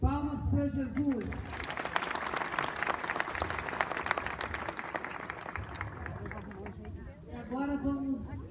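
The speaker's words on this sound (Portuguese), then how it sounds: "Palmas para Jesus." A congregation applauds at a Catholic mass in Juiz de Fora, Brazil. Dense, steady clapping fills the middle, and a voice speaks over it at the start and again near the end.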